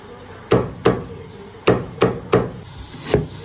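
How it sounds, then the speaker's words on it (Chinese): Knife chopping scallion and ginger on a board: six sharp, evenly spaced chops ringing out close and clear over a quiet kitchen background, with no talk. "再切点葱姜"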